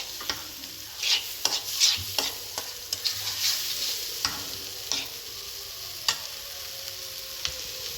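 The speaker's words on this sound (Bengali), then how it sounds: "এটা একটু ভেজে নিচ্ছি পেঁয়াজ রসুনের সাথে" A large tomato fries with onion and garlic in a pan, with a soft, constant sizzle broken by repeated scraping clicks as a spatula stirs, close and without talk.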